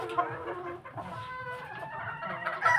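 A chicken, likely a rooster, clucks repeatedly at close range in a farmyard, with several harmonic calls layered over steady background noise.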